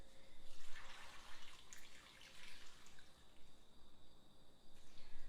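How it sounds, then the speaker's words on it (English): Water poured into a pot of chicken bone broth in a home kitchen, a faint, steady trickling splash that goes on throughout with no talking. "don't forget to add the water."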